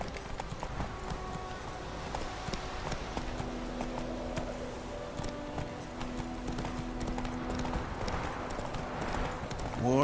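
Horse galloping in The Witcher 3: Wild Hunt, a steady rhythmic clip-clop of hooves that continues without a break, set against a soft game ambience.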